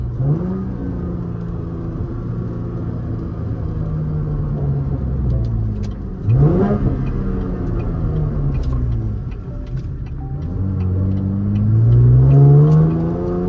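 Chevrolet Camaro, fifth generation V6 with a muffler delete, driven in manual mode: a raspy engine rumble climbs through revs, drops sharply on a downshift, then builds again into a louder, rising rev, heard from inside the car.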